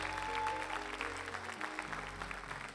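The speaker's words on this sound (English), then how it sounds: "give these guys a hand clap." Church congregation applauding with hand claps over sustained music, a dense, steady spatter of clapping that fills the room throughout.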